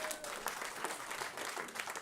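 Conference audience at a Climate Week NYC talk applauding steadily, an even patter of many hands at moderate distance throughout.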